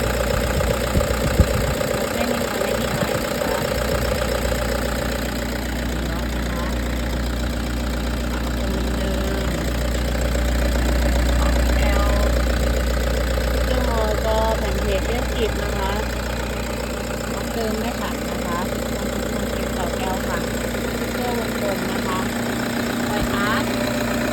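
A 2013 Toyota Vigo Champ 2.5E four-door pickup's diesel engine idles steadily with a low, even knocking rumble, close and continuous for the whole stretch.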